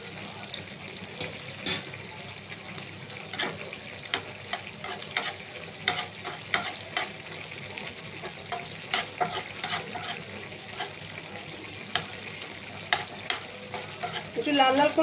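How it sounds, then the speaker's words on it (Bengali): Dry red chili, white sesame seeds and radhuni spices fry in oil while being stirred for a Bengali mixed vegetable curry, giving a steady sizzle broken by frequent clinks and scrapes of the spoon. "এই লঙ্কাতে দেখুন ভাজা হয়ে গেছে, এই তিলগুলো মোটামুটি ভাজা হয়ে গেছে"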